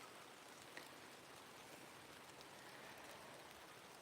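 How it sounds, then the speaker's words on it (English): Light rain falls outdoors as a faint, steady hiss of fine drops, continuous and even with no voices. "It's kind of rainy though"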